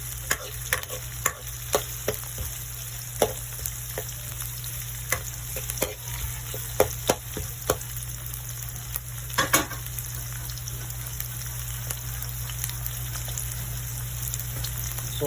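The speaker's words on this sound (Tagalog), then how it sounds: "Haluin muna natin." Escabeche ingredients are stirred in a sizzling pan, a constant oily hiss under a low hum, broken by regular sharp clicks and scrapes of a utensil against the pan, close and without speech.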